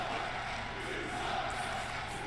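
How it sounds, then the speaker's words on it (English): A wrestling crowd at a BCW Midnight Mayhem event voices its displeasure, a steady, distant wash of boos and murmuring that fills the arena without any single clear voice. "Crowd not very happy with Liam's answers here."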